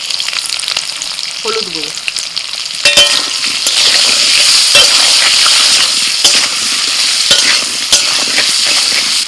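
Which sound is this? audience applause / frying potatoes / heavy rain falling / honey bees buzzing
frying potatoes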